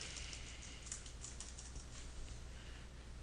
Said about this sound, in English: I want to type in the author name.